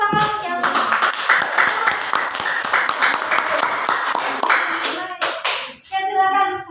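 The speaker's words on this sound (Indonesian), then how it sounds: "Beri tepuk tangan yang" A classroom group claps for a presenting student group, a dense burst of hand applause lasting several seconds before it breaks off, followed by a brief voice.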